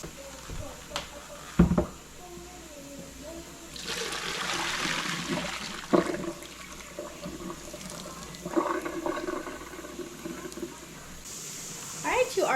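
Cooked pasta water is drained, pouring and gushing loudly for several seconds with trickles and splashes before and after, while a voice talks intermittently.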